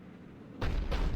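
A Cerberus cannon in Mass Effect 3 starts firing after a quiet stretch: a loud, sudden boom with a heavy rumbling burst that carries on for the remaining half second, alone with no talk.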